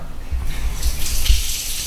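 Tap water runs steadily in a lab sink to cool a test tube during an environmental engineering experiment, a close, continuous rushing flow with a few louder splashes.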